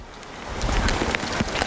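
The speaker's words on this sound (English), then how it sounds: "that rain is really actually coming down now. Actually, it's hail." Rain mixed with hail pelts down at an outdoor high school softball game, a loud, dense patter of hard ticking impacts that builds and thickens over the moment, with no voices heard.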